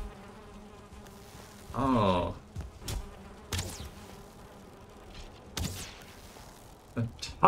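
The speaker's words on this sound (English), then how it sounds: "Don't touch the bees." Angry bees buzzing in the Valheim video game, a loud swelling drone near two seconds with fainter buzzes returning later, heard among game sounds while a voice speaks briefly.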